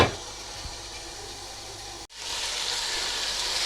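Chicken korma masala re-frying in a pan, a steady close hiss and sizzle of spices and oil, briefly dipping before resuming at an even level with no talking.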